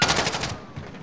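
Rapid video game gunfire hitting the player, a fast burst of loud, close shots for about half a second, followed by quieter fading noise.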